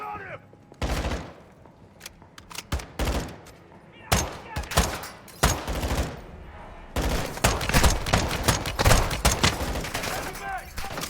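Video game gunfire in rapid bursts and single shots, loud and close, with automatic fire building into a dense stream in the second half, over a mix of in-game sounds.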